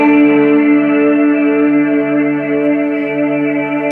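A guitar reverb pedal with its decay control turned all the way up produces a loud, sustained wash of reverberant tone, steady harmonic layers ringing on without fading across the whole stretch.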